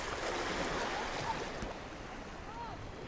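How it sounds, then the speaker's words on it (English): Waves lap gently on Blackpool beach during a summer heatwave, a soft continuous wash of surf mixed with wind noise across the microphone and nearby murmuring. "listen to the gentle lapping of the waves"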